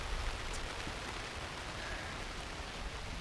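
Steady rain falling outdoors near Lake Huron, a continuous broadband hiss of drops with no clear pauses, fairly close and even in loudness.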